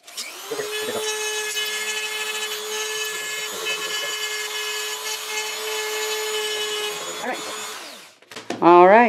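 A Dremel rotary tool whines steadily for about seven seconds as it grinds excess glue from around the wing of a Breyer Stablemate model horse being made into a pegasus, then winds down and stops, followed by a brief rising whine.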